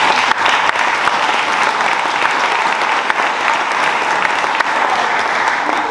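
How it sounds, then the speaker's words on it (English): Loud, sustained applause from an audience at an Air National Guard Black History program, a dense wash of many hands clapping continuously and close, without pause. "We're clapping for that"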